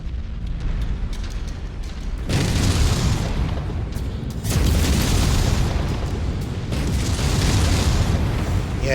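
Explosions from destroyed targets in the video game MechWarrior 5: Mercenaries, three loud, booming blasts spaced a couple of seconds apart, each rumbling on over a constant heavy background roar.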